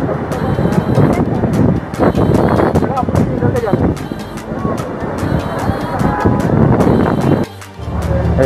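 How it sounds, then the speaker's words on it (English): Wind buffets the microphone in a constant roaring rumble near the Liberation Tower in Kuwait, with distant traffic and a person talking over it; the noise briefly drops near the end. "it's quite windy."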